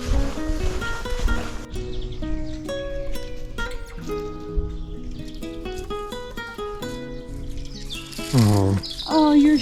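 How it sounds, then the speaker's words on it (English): Birdsong along the Camino de Santiago trail between Arzua and O Pedrouzo, with varied chirps and tweets over a soft outdoor background, moderately close with a brief louder flurry near the end, no talk. "This is the sections I just love because you can hear all the birds."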